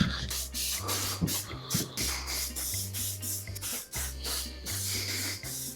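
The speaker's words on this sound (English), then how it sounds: "So now we're gonna go with the second and the last coat of the clear coat." Clear coat sprayed onto alloy wheels in repeated close, loud hissing bursts from a spray gun, each pass separated by brief pauses, with a steady low compressor drone underneath and no talking.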